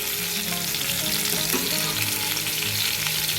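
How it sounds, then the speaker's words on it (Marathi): Eggplant pieces with a masala coating fry in a pan, a steady, close, dense sizzle that holds evenly throughout with no talking. "अशी मस्तपैकी थोडी बाहेरची जी कोटिंग आहे ना ती थोडी फ्राय झाली पाहिजे वांग्याची"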